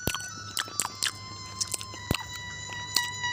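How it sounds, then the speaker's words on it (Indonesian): A king eating greedily, with close, irregular crunchy bites and chewing smacks scattered over a few seconds under a faint steady tone, no talking. "mulutnya mengunyah tanpa henti, dan suara makannya terdengar jelas"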